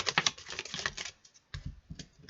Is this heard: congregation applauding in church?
no